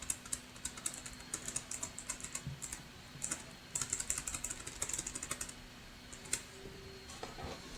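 Fingers tap a computer keyboard while entering a router host name, quick irregular bursts of light clicks with short pauses, close and fairly quiet, with no talking.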